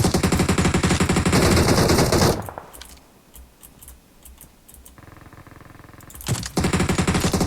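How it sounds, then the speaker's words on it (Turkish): Gunfight in PUBG Mobile: loud bursts of rapid automatic fire open the clip, drop to quieter distant shots and game ambience, then sharp gunfire returns near the end. "Oo biraz çatışma sesleri."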